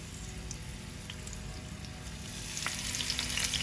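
Vegetables, pointed gourd among them, frying in hot oil in a home kitchen pan, giving a steady soft sizzle with faint crackles that grows a little louder near the end, with no talk.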